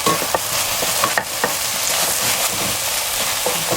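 Keema minced meat fries dry in a pan while being stirred, giving a continuous close sizzle broken by scraping stir strokes at irregular intervals.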